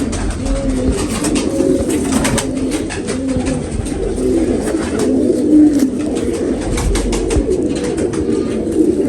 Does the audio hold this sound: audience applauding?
no